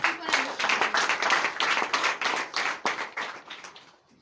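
A church congregation at a Sunday worship service in Comè, Benin claps in steady rhythmic acclamation, loud and sustained, with voices mixed in before the clapping tapers off at the end.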